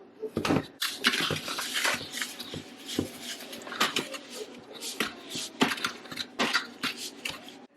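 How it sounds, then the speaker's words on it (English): Low carb flour substitutes whisked together in a bowl, giving a busy run of scraping and tapping clicks against the bowl that repeats in irregular bursts throughout, close and moderately loud. "That's where my whisk comes into play."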